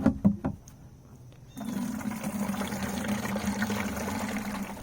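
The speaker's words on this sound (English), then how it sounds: "And now, time to fill up the watering can." Water pours steadily into a watering can in a yard, a continuous close rushing stream that begins after a few soft knocks and handling sounds.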